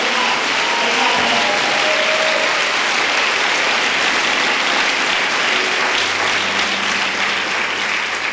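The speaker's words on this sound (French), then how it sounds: "C'est pour cela que je veux que vous acclamez Dieu pour vos vies." A church congregation applauding together, dense continuous clapping that stays loud and even throughout, with no speech over it.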